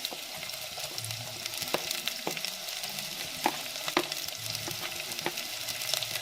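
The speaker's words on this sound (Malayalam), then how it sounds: "ഇഞ്ചി ഒന്ന് വാടിക്കഴിയുമ്പോൾ നമുക്ക് ഇതിലേക്ക് ഒരു സവാള ചേർത്ത് കൊടുക്കാം" Ginger sizzles in a pan as onion and green chillies are sautéed for a mushroom curry, a steady close frying hiss punctuated by several sharp stirring scrapes, with no voices.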